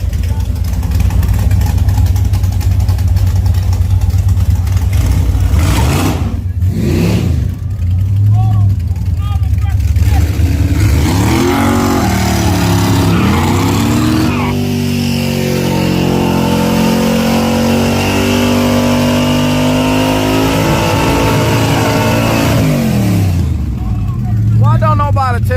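Drag racing cars at a street-to-strip event rumbling and revving through a burnout, a loud continuous engine roar with rising and falling revs, while people talk over it.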